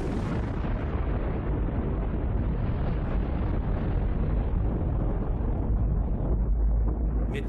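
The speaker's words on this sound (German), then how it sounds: "Es ist die bislang stärkste Explosion einer Wasserstoffbombe." A massive, sustained roaring rumble of a hydrogen bomb explosion, deep and continuous, filling the whole stretch without a break.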